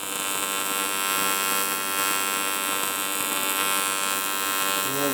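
Arc welding on an aluminium Range Rover step gives off a continuous, even electrical buzz with a rich harmonic hum that barely changes in level from start to finish.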